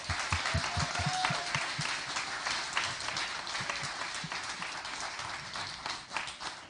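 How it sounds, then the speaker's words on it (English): An audience at a spelling bee championship applauds a young student, with brisk, dense clapping from many hands and a few sharper nearby claps, fading slightly toward the end. "Let's give her a big round of applause for a job well done."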